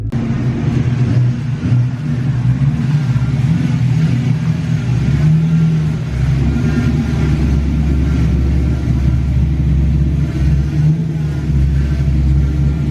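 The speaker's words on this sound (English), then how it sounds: "So as you can tell, Onyx has a little chop to him." Ford SN95 Mustang with a 302 small block and E303 cam idling, a loud close rumbling idle with an uneven, choppy lope throughout.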